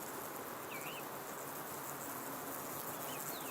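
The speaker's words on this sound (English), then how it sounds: "I hear another buzzing sound." Steady, droning insect buzz from the video game Scrat's Nutty Adventure, loud and continuous throughout, with a few faint chirping squiggles on top.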